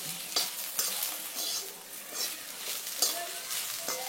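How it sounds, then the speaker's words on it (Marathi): Okra frying with salt in a kadhai, with a soft continuous sizzle broken by several sharp scraping clicks as a spatula stirs and tosses it, fairly quiet and close. "याप्रमाणे मीठ घालून आपण आता ही भेंडी थोडीशी पुन्हा परतवून घेऊया"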